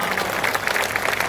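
Audience applause at a Hindi poetry recital, a short steady burst of many hands clapping together from a seated crowd.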